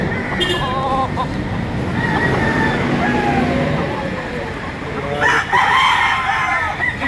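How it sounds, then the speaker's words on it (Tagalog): Roosters crowing at a gamefowl farm in Lipa, Batangas, several drawn-out calls overlapping at close to mid distance, with someone talking over them throughout. "Gandang manok nito."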